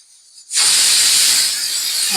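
A loud, sudden blast of hissing steam bursts out after a brief quiet moment and keeps rushing steadily, close and intense.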